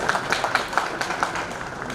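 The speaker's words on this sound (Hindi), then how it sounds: "जरा तालियां बजाएं साथ साथ।" An audience claps along together at a cosmetics store grand opening in Peshawar, a steady, fairly even run of hand claps filling the space.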